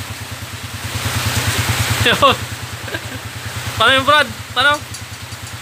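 A Honda TMX155 motorcycle idles close by with a steady, rapid ticking pulse from its exhaust, while someone speaks briefly over it.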